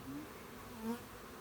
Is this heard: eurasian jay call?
no